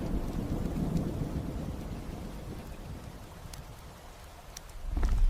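A thunderstorm breaking, with steady rain and a low rumbling roll of thunder that fades and then swells again near the end, loud and close throughout with no voices.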